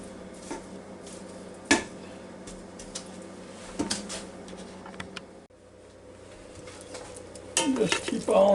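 A soft, steady sizzle of ground meat in a pan, broken by sharp scrapes and clinks of a utensil breaking it apart, growing busier and louder toward the end.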